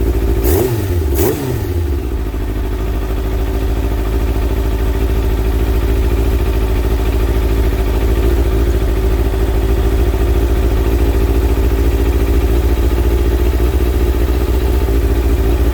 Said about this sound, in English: Just going to twist the throttle.